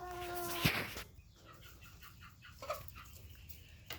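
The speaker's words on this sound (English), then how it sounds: "So, chickens." Backyard chickens clucking, with a short burst of calls and a few softer clucks close by, alone without talk.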